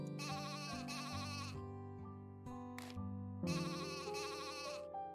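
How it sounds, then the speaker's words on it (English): A sheep in the farming game Pumpkin Days bleats repeatedly, with long wavering nasal calls broken by a brief pause, close and clear over a faint game background with no talking. "I forget if Snow is a boy sheep or a girl sheep"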